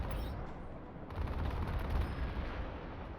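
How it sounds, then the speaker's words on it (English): Sustained, inaccurate gunfire rattles in the Comanche remake helicopter game, a dense continuous stream of shots over a rumbling mechanical background, growing slightly louder midway. "Look at how inaccurate that gun is."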